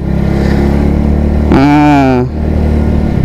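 A WMOTO Cruiser 125 AMT motorcycle with a 125cc engine climbs a hill with a close, steady engine drone. A brief higher tonal surge rises midway, then the drone continues.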